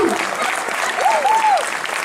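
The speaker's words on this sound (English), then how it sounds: "Would you please give her a round of applause?" Steady audience applause fills a hall at an evening class celebration for a student who landed a full-time job, with a brief whoop rising above the dense clapping.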